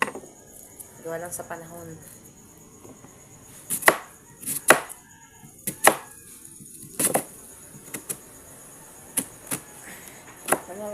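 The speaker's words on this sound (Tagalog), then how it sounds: "nagayat ako ng puting sibuyas" A knife chops white onion on a cutting board in a home kitchen, sharp separate thuds landing irregularly at close range, with someone speaking briefly early on between the cuts.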